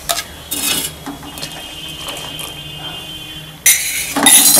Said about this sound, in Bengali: এই দুধটা আমি এর সাথে মিশিয়ে দেব।